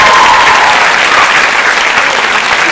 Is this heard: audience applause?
yes